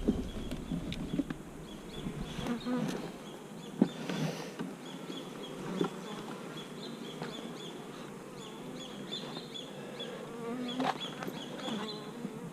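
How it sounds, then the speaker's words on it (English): Honey bees buzz steadily inside an opened nuc hive box, a dense continuous drone close by with occasional louder individual bees passing near, and no talk. "Just to see how many bees are in here."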